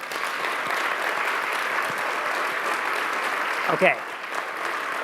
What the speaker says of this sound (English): now we need the real applause